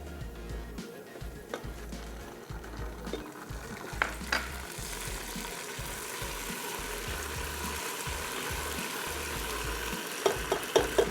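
Garlic-ginger paste frying in a pan with fried liver and garam masala, a steady close sizzle and crackle with stirring scrapes throughout.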